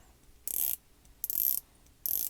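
A dive watch bezel is rotated in three short bursts of rapid ratcheting clicks, close and crisp, with brief pauses between turns.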